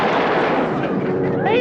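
Gunfire aimed at a passing plane, dense loud shooting and booming blasts packed into a brief burst, with a voice breaking in at the end.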